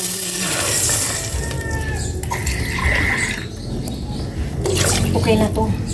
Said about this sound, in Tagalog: Maglagay na ako ng tubig.